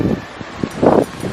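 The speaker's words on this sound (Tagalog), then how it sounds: "the wind is so strong" Strong gusty wind blowing outdoors on a sunny day, rushing and buffeting the microphone in uneven surges, loudest near the end, with faint rustling.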